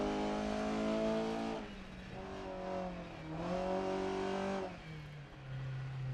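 Rally car engine in the racing game Dirt 2.0 revs hard and accelerates through several gear changes, pitch climbing then dropping, a steady loud whining drone with no voices.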